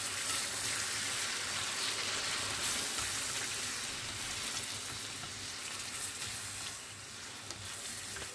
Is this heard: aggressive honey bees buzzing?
no